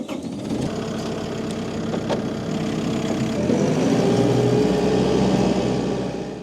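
A compact tractor's engine runs steadily with a knocking diesel-like chug, then rises slightly in level partway through as it keeps running close by.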